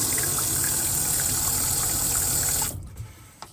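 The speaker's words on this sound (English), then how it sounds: "when you turn the pump on, the light comes on indicating that the pump is activated" A small water pump in a DIY truck camper runs with a steady whooshing, rushing flow of water, loud and close, then cuts off abruptly near the end, leaving quiet with a faint click.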